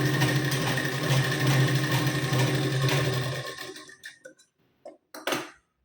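A sewing machine stitches a strip onto a blouse, a steady close whirring run for about four seconds, followed by a few light clicks and handling taps.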